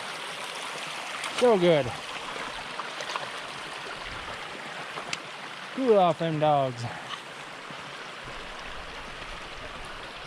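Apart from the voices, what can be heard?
flowing water of Ten Mile Creek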